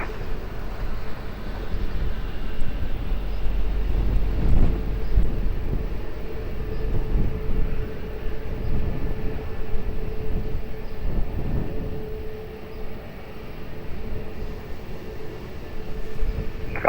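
An airliner takes off from runway 20 at Lisbon Airport, a loud, steady, broadband engine roar with low rumble persisting throughout, heard from a distance outdoors.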